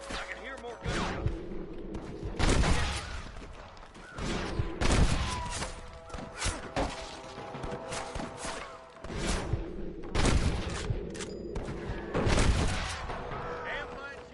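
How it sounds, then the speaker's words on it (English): Gunfire in a Red Dead Redemption shootout: repeated loud bursts of shots and booms in irregular clusters, with voices talking in between. "I can hear more gunshots."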